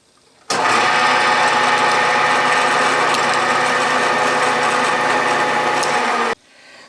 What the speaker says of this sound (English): this is a number 3 drill, and I'm drilling down until it meets the other hole